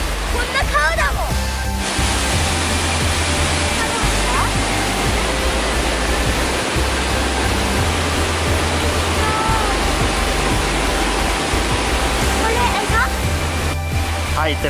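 River water rushes steadily at a campground in Gifu, Japan, a loud continuous broadband roar that persists throughout without pause.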